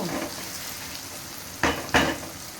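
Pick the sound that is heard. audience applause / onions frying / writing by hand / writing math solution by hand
onions frying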